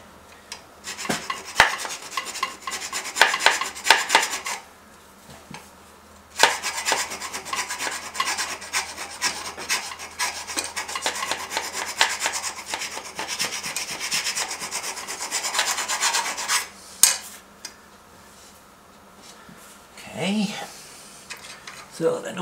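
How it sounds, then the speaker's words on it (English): Hand file rasping yellow paint off a metal part on a 650 Yamaha-based BSA-style scrambler motorcycle build, long bursts of close scraping strokes with short pauses between. "got to take a bit more yellow paint off. Hold on while I get a file."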